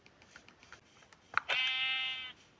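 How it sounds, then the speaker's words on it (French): A sheep bleats in the Minecraft video game, a single drawn-out, buzzy cry of about a second, loud and close, preceded by a few faint clicks and soft game sounds. "Ok, c'est un mouton."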